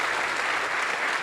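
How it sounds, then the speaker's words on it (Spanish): Audience applause fills a conference hall at the Congreso Futuro 2023 event in Chile, a dense, steady wash of clapping that runs at an even level through the short stretch. "Es un gran aplauso."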